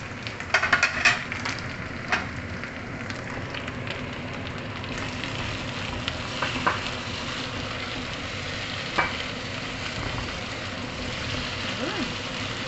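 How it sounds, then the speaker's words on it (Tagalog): Curry leaves frying in hot oil in a pan, a steady soft sizzle with occasional spoon scrapes and clinks against the pan throughout. "isama natin sa pag-fry yung ating curry leaves"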